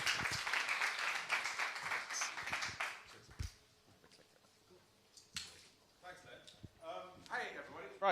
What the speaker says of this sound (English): Please give John a round of applause